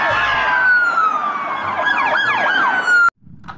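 An ambulance siren wails loudly with a steady high tone and rising-falling sweeps, passing close before cutting off abruptly.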